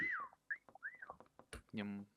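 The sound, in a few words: whistle blown in a video game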